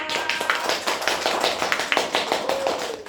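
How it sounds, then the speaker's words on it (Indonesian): Applause in a classroom during a microteaching session, a short burst of many hands clapping in a quick, uneven patter, moderately loud and fairly close, with no talk over it. "Beri tepuk tangan untuk Mbak Fariha."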